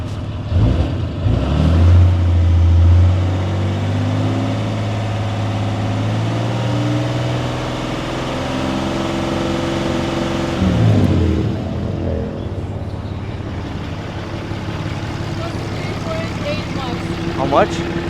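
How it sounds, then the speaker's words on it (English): A Cummins 6.7L diesel truck engine idles steadily, then revs up with a rising low roar partway through before settling back, while people talk nearby throughout. "I'm gonna rev and see how high it goes."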